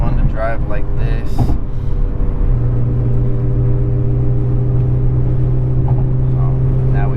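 Steady low engine drone and road rumble inside an Infiniti G35 on a windy drive to work, a continuous close hum with a sustained tone settling in partway through.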